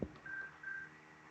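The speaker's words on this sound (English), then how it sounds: "looks like we've got a call coming through." A telephone call rings in the video game Orwell, heard as two short, steady electronic tone bursts in a row, fairly quiet, with no talking over them.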